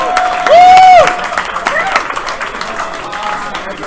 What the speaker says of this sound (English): I want to give a round of applause to everyone who's here for the first time